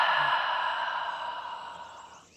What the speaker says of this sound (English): Taking a collective exhale.